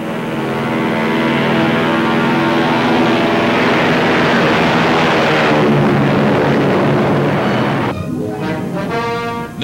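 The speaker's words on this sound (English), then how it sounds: "the huge airliner leaves the water with the grace of a mammoth bird" A loud, steady roar of aircraft engines and propellers with rushing water noise underneath, the huge WWII-era Martin Mars flying boat powering up off the water.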